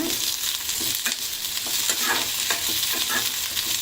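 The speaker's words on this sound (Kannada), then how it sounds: "ಈರುಳ್ಳಿ, ಹಸಿಮೆಣಸಿನ್ಕಾಯಿ 2 ಫ್ರೈ ಮಾಡ್ಕೊಳ್ಳೋಣ" Onion and green chilies frying in a pan for a Salem-style chicken curry, giving a steady close sizzle with soft stirring scrapes throughout and no talk.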